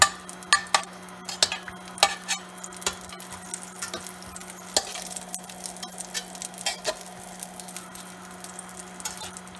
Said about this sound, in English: we're going to just dose the butter back and forth so it melts